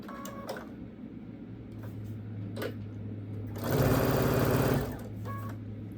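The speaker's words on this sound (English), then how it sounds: "So we're gonna sew this like a giant 4-patch" A sewing machine stitches quilt blocks together like a giant four-patch, first a few short bursts of stitching, then a louder continuous run of about a second before easing back to a quieter hum.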